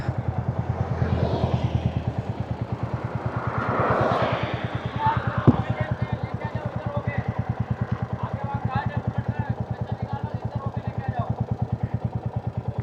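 A motorcycle ridden in first gear on a Delhi-to-Udaipur trip in heavy rain, its engine running close with a steady rapid pulse, while someone talks over it.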